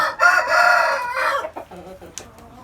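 An Indian game rooster gives one long, loud, close crow that fades into softer clucks and small scratchy sounds.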